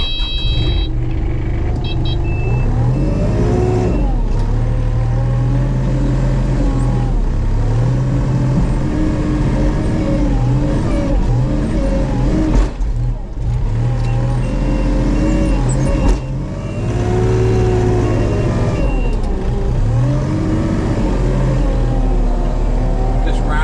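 A heavy truck hauls off dirt and gravel at a culvert excavation site, its engine rumbling steadily and loudly throughout, with brief dips and swells in the drone and some voices mixed in.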